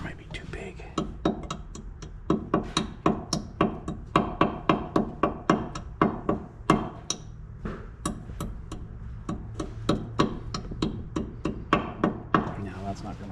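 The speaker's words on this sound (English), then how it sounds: "This hammer might be too big." A hammer strikes a cotter pin on the steering knuckle of a 2013 Toyota Corolla in a long run of sharp, metallic taps at a quick, fairly even rhythm, close by, with brief pauses.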